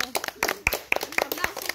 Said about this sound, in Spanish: ¡Ah, aplauso!